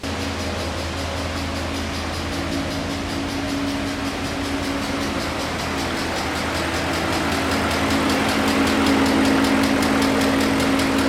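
A car engine runs steadily at idle after being started with the key, a loud continuous mechanical drone with an even tone that holds throughout and swells slightly toward the end; no starter crank is distinct.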